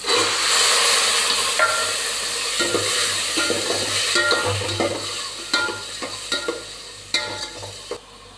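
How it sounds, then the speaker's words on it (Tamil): Cooked peas tipped into an onion-tomato masala frying in oil for pea kuzhambu produce a steady close sizzle, with scattered stirring clicks growing more frequent toward the end and no voices. "இப்போ நம்ம வேக வச்சு வச்சுருந்த பட்டாணியை கொட்டிடுறோம்"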